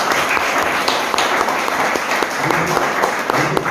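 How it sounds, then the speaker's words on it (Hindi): Audience applause at a youth Christian group gathering. A steady, dense wash of clapping fills the whole short stretch and stays at a constant level. "लीडर को एक जोरदार ताली के साथ धन्यवाद।"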